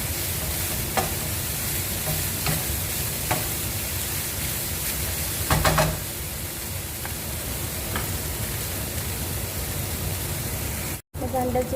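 Onions frying in a pan for sambusa, a steady sizzle with occasional stirring scrapes and clicks, while a person talks over it.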